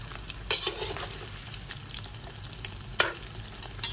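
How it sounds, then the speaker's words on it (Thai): Homemade french fries frying in a pan of boiling oil, a soft steady sizzle with a few sharper stirring clatters near the start and end, no talk. "อันนี้ไฟน้ำมันกำลังเดือดนะครับผมเนี่ย"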